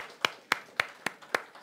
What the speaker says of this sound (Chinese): 我们鼓掌，谢谢他们，鼓励他们好吗？